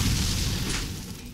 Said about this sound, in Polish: I z tego samego powodu też rozbijam wybuchające beczki.